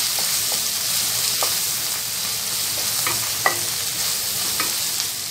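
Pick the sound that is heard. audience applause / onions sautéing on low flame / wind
onions sautéing on low flame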